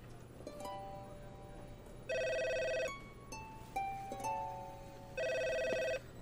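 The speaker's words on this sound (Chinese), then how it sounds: "我接个电话。" A telephone rings indoors in two loud bursts of electronic ringing about three seconds apart, with softer melodic tones sounding between them over a quiet room hum.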